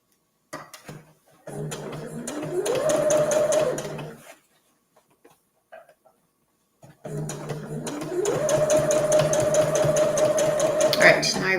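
Sewing machine stitching a reusable gift bag, running in two long bursts with a rising whir that settles into a steady drone, separated by a short pause; close and clear, with a person talking briefly in between.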